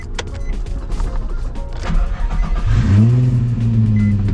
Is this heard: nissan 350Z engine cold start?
yes